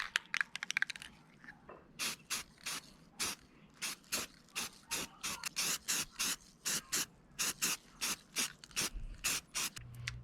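Spray primer is applied to masked-off minibike parts in a long series of short, rhythmic hissing bursts, close and evenly spaced, opening with a quick rattle of rapid clicks.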